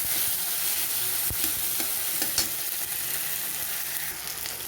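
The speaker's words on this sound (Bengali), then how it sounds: "এবারে দিয়ে দেবো টমেটোটাকে কিছুক্ষণ পেঁয়াজের সাথে, আদা রসুন পেঁয়াজের সাথে কিছুক্ষণ ভেজে নেব।" Tomato frying in a pan with ginger, garlic and onion, a steady close sizzle with a few sharp stirring clicks and scrapes throughout.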